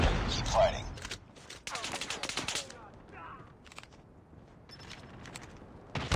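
Gunfire from Call of Duty Mobile on the Raid and Nuketown maps, with QQ9 bursts: dense fusillades and rapid automatic fire rattle loudly in clusters, separated by brief lulls, with voices speaking over parts of the action.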